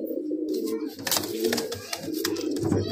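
A male Madras pigeon coos in low, repeated throaty bursts, steady and close, set against a busy background of other birds and clatter at a pigeon sale.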